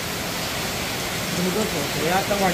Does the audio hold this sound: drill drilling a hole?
no